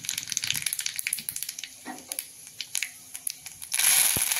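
Cumin seeds added to hot oil where mustard seeds are already spluttering in a pan, a close series of sharp pops and crackles, then a sudden louder burst of sizzling at the end.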